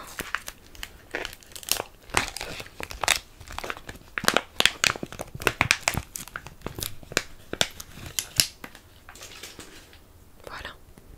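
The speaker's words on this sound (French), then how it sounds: "j'aimerais bien enlever le scotch qu'ils ont mis pour pouvoir vous en sortir un" Sticky tape crackles and rips in short bursts as it is peeled off small glass tubes, close and quiet, with faint whispering in between.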